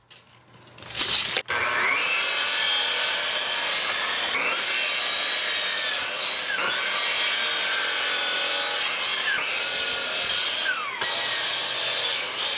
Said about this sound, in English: come over to my miter saw, and cut everything to rough length